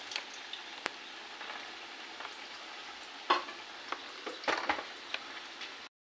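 Rolls frying together in a wok of hot oil, giving a steady quiet sizzle with scattered pops and crackles, no voices.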